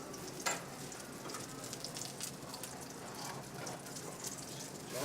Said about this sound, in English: then we're going to saute a little bit with some spinach